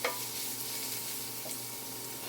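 Food cooking down in a big skillet with plenty of oil, a continuous even sizzle close by with a faint clink near the start, no talking.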